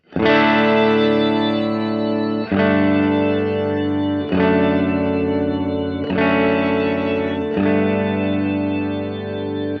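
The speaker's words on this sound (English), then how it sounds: "I have my dry signal going straight through, and then I have an upper octave slowly fading in" Guitar played through an effects pedal, a dry signal with an upper octave slowly fading in, chorus-like and slightly distorted; five sustained strummed chords ring out in sequence, loud and close, with no talking.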